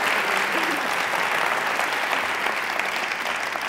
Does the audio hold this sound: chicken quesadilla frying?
no